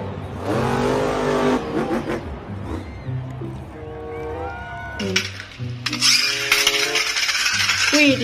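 Megalodon monster truck engine revving in a dinosaur video game, loud sustained motor tones rising and falling with a bright metallic clatter later on, close and continuous without talk.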